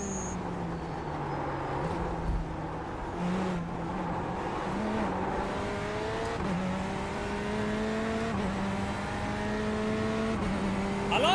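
A race car engine in a sim racing game whines high and buzzy like a strimmer, pitch stepping up through gears in repeated climbs, steady and close with no talk.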